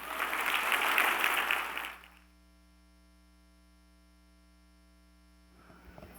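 Audience applause following a keynote at a regional State of the Region event, a dense wash of clapping for about two seconds that cuts off abruptly, leaving only steady mains hum before faint room noise returns.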